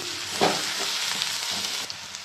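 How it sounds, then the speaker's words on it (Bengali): Garlic fries in a pan for a Bengali dry fish curry, giving a close, steady sizzle with a brief louder burst of spattering and a few light clicks of stirring. "রসুনটা আমার ভাজা ভাজা হয়ে গেছে"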